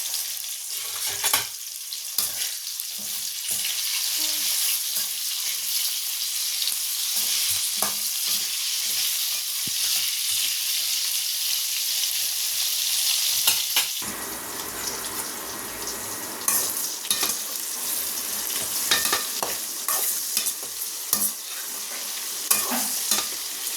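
Brinjal sautéing in hot oil with salt, a steady close sizzle with scraping spatula strokes stirring the pan throughout, the frying hiss growing busier and more crackly partway through.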